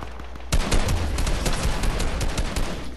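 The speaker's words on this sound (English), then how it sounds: "Who's shooting at me? Oh, it's an actual player." Gunfire from another player in Fortnite: after a half second of quieter game sound, a rapid burst of repeated shots starts abruptly and rattles on loudly and steadily to the end.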